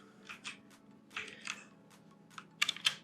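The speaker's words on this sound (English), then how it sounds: "Now we'll type a text, Robert" Keys clack on a computer keyboard in quick irregular bursts of taps, close and fairly quiet, with a couple of sharper strokes near the end.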